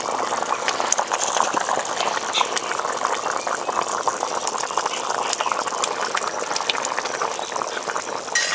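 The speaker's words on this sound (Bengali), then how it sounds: "ঝোলে মাছ পড়ে গেছে, এখন আর সময় লাগবে না, 4-5 মিনিট ফুটিয়ে নিলেই হয়ে যাবে।" A pot of rohu fish curry with green banana simmers at a steady rolling boil, giving a constant close bubbling hiss with small pops throughout.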